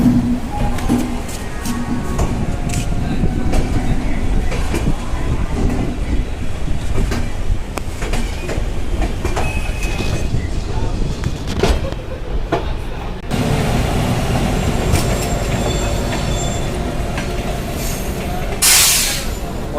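Howrah to Bolpur Shantiniketan Express running at speed, a steady loud rumble of wheels and carriage rattle with rhythmic clacks throughout, wind buffeting the microphone and a brief higher squeal near the end.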